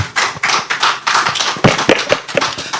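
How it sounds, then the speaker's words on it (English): A small audience at a product unveiling panel claps in loose, uneven bursts. The near, sharp hand claps rise and fall without crowd noise or talk. "Please give him a round of applause."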